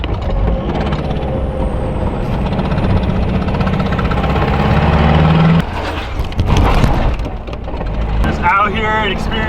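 A lowered stance car's engine drones steadily while driving on the road, with loud continuous rumble and road noise; a person talks over it.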